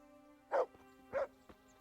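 Dog barking in the medieval role-playing game Kingdom Come: Deliverance, two short, mid-loud barks about half a second apart, followed by a faint click, over a steady low game hum.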